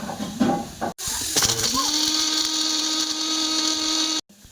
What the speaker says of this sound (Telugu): కొంచెం చల్లారిన తర్వాత అప్పుడు మిక్సీ పట్టుకోవాలన్నమాట